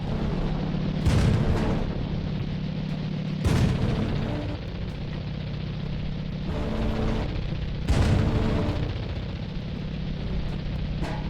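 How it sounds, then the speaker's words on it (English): Heavy 100mm howitzer artillery fire in a tank video game: three deep, loud booms spaced a few seconds apart over a steady low rumble of engine and battle ambience. "100mm howitzer kill"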